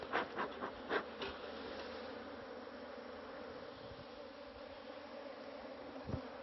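Honey bees buzz steadily around a beekeeper working hives in South Africa, a continuous insect drone with a few louder close passes near the start.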